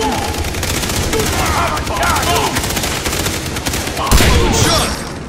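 Heavy automatic gunfire in the video game Far Cry 3, a loud continuous fusillade of rapid shots with a booming burst near the end, under shouted voices.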